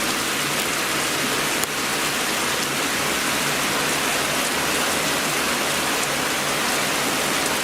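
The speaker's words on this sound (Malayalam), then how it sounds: "ഇടതോരാതെ പെയ്യുന്ന കർക്കിടക മഴ" Incessant Karkidakam monsoon rain pours steadily and loudly in Kerala, a dense, unbroken hiss of drops with no voices.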